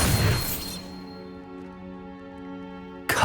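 The Bombarda blasting spell in Hogwarts Legacy opens with a sharp crashing burst that fades into a ringing, sustained tonal hum, and a second abrupt impact hits right at the end.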